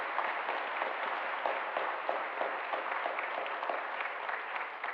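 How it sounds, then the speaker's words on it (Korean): A church congregation at a Sunday service claps in sustained, steady applause, a dense roomful of hands that stays even and continuous throughout. "하나님께 감사의 박수 올려드리겠습니다"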